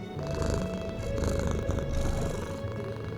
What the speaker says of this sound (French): le chat ferma les yeux, ronronnant de plaisir